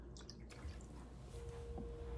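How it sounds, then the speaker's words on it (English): Faint, steady trickle and occasional drips of cold brew coffee straining through a strainer, a quiet continuous liquid sound with no talk. "then I'll add some more coffee to strain."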